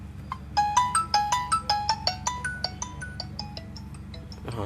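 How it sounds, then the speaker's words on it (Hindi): Xiaomi Mi Note 5 phone ringtone playing from a speaker with a sound fault, a bright rising and falling electronic melody of evenly spaced notes, clear and close over a low steady hum. "जब रिंगर बज रहा है तब ये गर्म हो रहा है हल्की सी साउंड आईसी में।"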